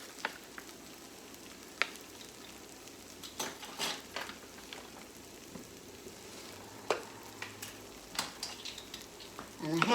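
Shrimp and rice seasoning sizzling softly in a pan while a utensil stirs and taps against it now and then, quiet and close, with no voices.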